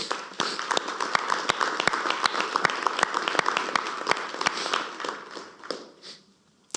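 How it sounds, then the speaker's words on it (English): Audience applause at a county legislature meeting in Schenectady County, New York: steady, fairly dense clapping from a modest crowd in a meeting hall, sharp individual claps standing out, tapering off toward the end. "How about a round of applause for our folks?"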